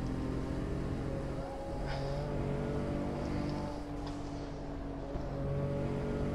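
A car driven at maximum attack around the Nürburgring: the engine drones loud and steady at high revs throughout, with a slight dip in pitch midway before it pulls hard again, and no talking.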